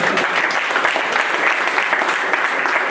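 A crowd at a felicitation ceremony marking an anniversary at Pune's Patrakar Bhavan claps hard, a thick, steady wall of applause lasting the whole stretch without pause.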